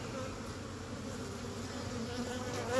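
Honeybees at a working hive give off a dense, continuous buzz that holds steady and close, then swells slightly louder toward the end, with no talking.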